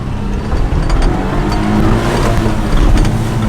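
A Kei truck with a welded differential churning through mud, its small engine droning loud and close at high revs with a rough, steady labouring tone.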